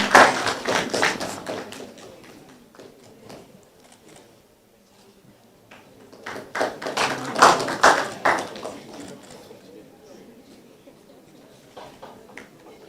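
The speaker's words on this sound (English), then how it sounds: "you can clap for them" An audience at a B.Pharm white coat ceremony claps for new first-year students in two bursts, the first fading out and the second swelling again before tapering off.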